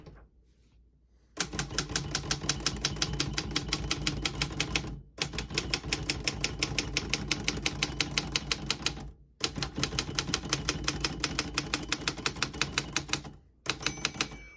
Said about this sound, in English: Once you hear the bell, you're at the end of the margin.